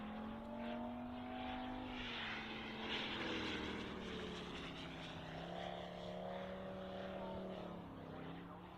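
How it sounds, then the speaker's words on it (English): A model aircraft runs at full throttle down the flight line at an airshow, its engine giving a sustained high buzzing whine that dips and rises in pitch as it passes. "Full throttle, he comes down the flight line"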